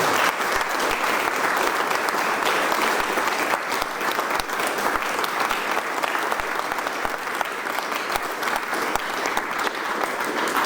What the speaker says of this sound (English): Will you please give all of them another big round of applause?